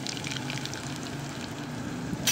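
Khichdi ingredients and coarse salt get stirred together in a pot over a wood-fired chulha, making a soft continuous sizzle and bubbling hiss with a brief scrape near the end and no voices.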